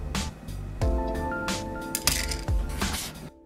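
A tiny whisk handled among kitchen utensils gives a few bright metallic clinks and taps, close and sharp, scattered over about three seconds with short pauses between.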